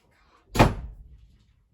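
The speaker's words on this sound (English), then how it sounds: "Before you leave, can you close the door," A single door swings shut with a solid thunk, fairly close and loud, followed by a brief fading rattle and room decay, with no voices.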